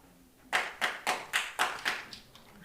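An audience claps during a lecture, a short run of about seven distinct claps spaced evenly, fairly faint, with no talk.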